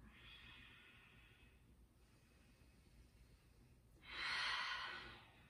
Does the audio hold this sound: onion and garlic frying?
no